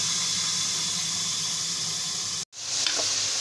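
Frying onions for yakhni kala chana pulao sizzle and hiss loudly and steadily in a pan. The noise cuts out for a moment, then resumes with a fresh burst of sizzling as water hits the hot oil.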